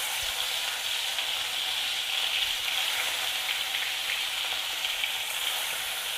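Chicken meat fries in oil in a kadai, giving a steady, close, bright sizzle with crackling throughout and no talk.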